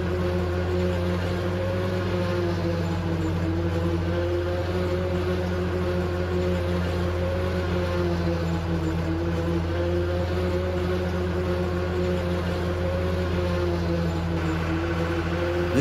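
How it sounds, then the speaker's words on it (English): A steady, droning video-game tractor engine hums at a constant low pitch, unchanging and continuous throughout, like a heavy vehicle idling or cruising. "This tractor sounds so wonderful, and it's pretty great to drive."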